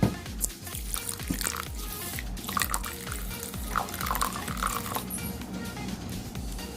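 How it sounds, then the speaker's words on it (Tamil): Water is poured and stirred into soaking sabja (basil) seeds for a milk sharbat, giving close, uneven splashing and dripping with small clinks. "இந்த சப்ஜா விதையில் கொஞ்சம் தண்ணி மிக்ஸ் பண்ணி வச்சிடலாம்"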